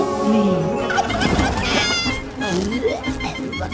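A turkey gobbles in a film scene, loud and close, with rapid warbling calls that repeat throughout. Voices and music blend in underneath.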